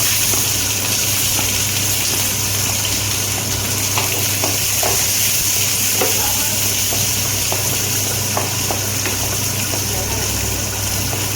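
Dried chilies and small shallots sautéed in a pan for keerai poriyal produce a continuous, even sizzle close by, with occasional soft stirring clicks and no voices.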